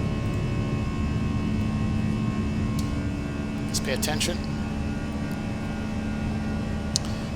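Airbus A320 airliner engines in the X-Plane 11 flight simulator give a steady, droning hum that fills the whole stretch, with someone talking briefly over it.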